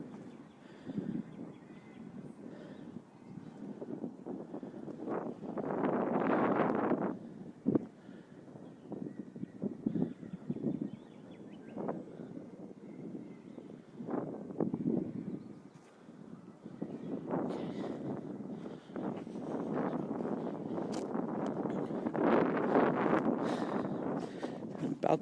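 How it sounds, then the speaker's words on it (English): Wind gusts blowing outdoors around an early-1900s house among tree branches, rushing and buffeting the microphone in uneven surges of rumble, louder near the middle and the end, with faint intermittent knocks. "it's kind of windy out here"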